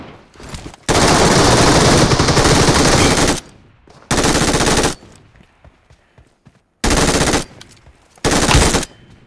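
Machine gun fire in the mobile shooter PUBG Metro Royale, delivered in four loud sustained automatic bursts, a long opening burst followed by three shorter ones separated by brief quiet gaps.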